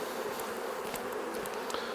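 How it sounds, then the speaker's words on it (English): A honeybee swarm buzzing in the air around an opened nuc box, a dense steady drone with individual bees zipping close by. "I know it seems like quite a lot of bees are up in the air now"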